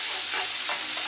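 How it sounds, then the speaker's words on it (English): Onions sizzle in a skillet, a steady close hiss of frying that holds evenly throughout the short moment, with no voices. "And to my same skillet, I'm adding onions."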